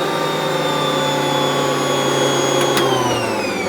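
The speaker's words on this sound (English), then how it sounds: "as you turn the mixer on" An Ankarsrum stand mixer runs with a steady, loud motor whine and humming overtones, mixing sticky cinnamon and nut bun dough. The whine holds evenly with a slight drop in pitch near the end, and no voices are heard.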